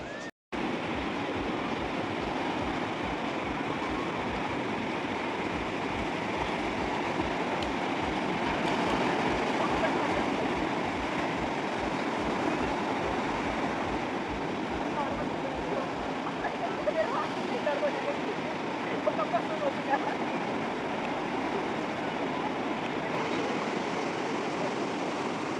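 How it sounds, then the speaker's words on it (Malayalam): A train pulls into a station in Goa with a steady low rumble and rhythmic wheel clatter, heard from the platform over continuous background noise. "അവരുടെ ട്രെയിൻ കുറച്ച് നേരത്തെ എത്തുന്നതാണ് കാണുന്നത്"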